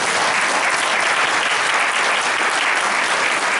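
A conference audience claps steadily in a dense, even wash of applause for the presenting groups at a farming community event, loud and sustained with no pauses.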